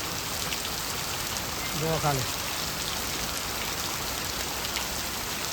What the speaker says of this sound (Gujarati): આ લાઈવ વરસાદ છે, આજનો જ વરસાદ છે.